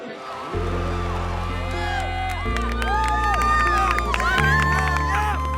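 A crowd of robotics team members cheers and whoops at a FIRST Robotics competition in Washington, loud and sustained, with a steady hum and shouted voices carrying over the noise for several seconds.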